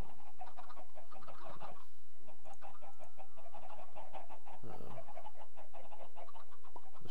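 Minecraft chickens cluck repeatedly in short, busy bursts, several birds overlapping at moderate loudness, with a brief thump near the end and no speech.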